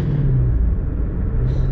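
Deep, loud exhaust rumble from a Ford Mustang GT350 with its flat-plane V8, held close and steady, with a brief higher-pitched rise near the end.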